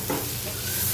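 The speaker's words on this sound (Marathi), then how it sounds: "टोमॅटोसुद्धा परतून घ्यायचा आहे." Chopped tomato and onion sizzle in a hot pan for a Marathi dill-leaf bhaji, a dense, close frying hiss with a quick stir scraping through, brief and without speech.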